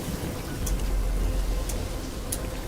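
Rain patters steadily in the gutters of the sci-fi video game Starfield, a continuous soft hiss with a low rumble and a few faint ticks, no talking over it.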